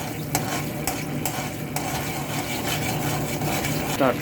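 A spoon scrapes and stirs sauce in a pan for egg noodles over a soft bubbling sizzle, with a few sharp clinks at uneven intervals.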